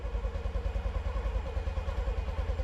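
A Honda Monkey motorcycle engine chugs and clatters unevenly at low revs, loud and close, as the clutch is let out, with no voices.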